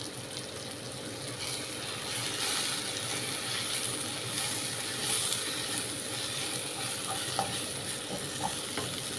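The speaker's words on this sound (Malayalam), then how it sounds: "ഇനി നന്നായിട്ട് നമുക്കിതൊന്ന് വഴറ്റിയെടുക്കാം" Onion, pepper powder and fennel powder sautéing in a pan for a squid roast, a steady low sizzle with soft scraping stirs running throughout and no talking.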